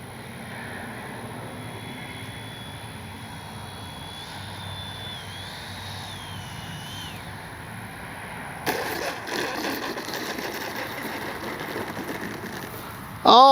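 A small FMS Avanti S 70mm RC electric ducted-fan jet whines faintly in the distance on landing approach, its pitch wavering, then a louder rushing burst as it touches down and rolls.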